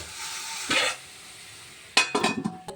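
Pea greens and a fish head being stirred in a frying pan, heard as two short bursts of scraping and sizzling spatula strokes with a quiet hiss between them.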